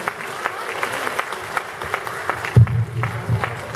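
Applause in a hall at a Day of Persons with Disabilities concert in Stebnyk, a dense run of clapping from the audience that swells louder toward the end.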